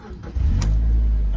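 A Mazda MX-5 2.0i roadster cranks briefly and catches, settling into a close, loud, steady idle with a deep rumbling engine note and no talking.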